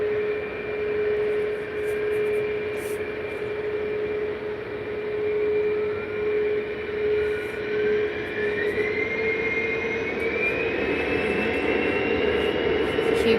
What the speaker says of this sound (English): easyJet A320 off to Basel in Switzerland